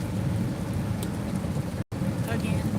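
Rain falling outdoors, a dense steady hiss of drops at close range, broken by a brief dropout near the end, with no talking.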